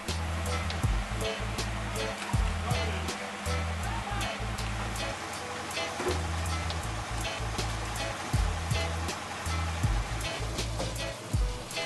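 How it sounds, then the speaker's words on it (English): Cassava tubers are washed in a tub of water to remove dirt and sand, making continuous splashing and sloshing with repeated knocks and thumps of tubers against the tub throughout. "thorough washing is done in a tub to remove dirt and sand"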